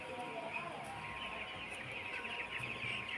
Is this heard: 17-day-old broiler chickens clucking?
yes